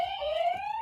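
Quiz buzzer ringing in during a podcast trivia game, a steady electronic tone held for under a second, moderately loud and alone with no voices.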